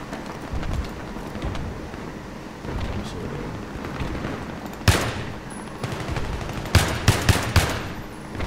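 SKS rifle fire in Battlefield 3, heard as a sharp close shot around the middle and then a quick cluster of rapid cracks near the end, over dull background rumble of combat.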